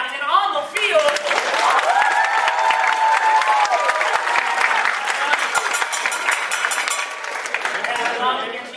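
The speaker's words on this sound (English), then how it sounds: "I'm going to need big applause for the losing captain on the field." A live audience at a tenth-anniversary game show applauds loudly and continuously, a dense wash of clapping with some cheering, and a voice over it.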